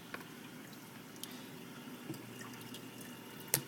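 Cool top-up water poured slowly into a coral and fish aquarium tank, a faint, soft trickle against a quiet room hum with a few small splashes and clicks, no voices.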